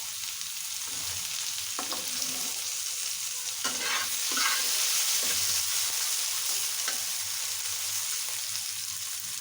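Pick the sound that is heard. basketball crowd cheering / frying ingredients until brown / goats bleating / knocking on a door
frying ingredients until brown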